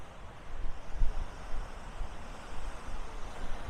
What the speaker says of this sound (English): Very breezy down here